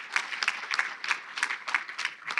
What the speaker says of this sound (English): so we can just clap right at the beginning